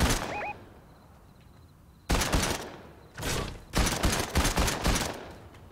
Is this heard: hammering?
no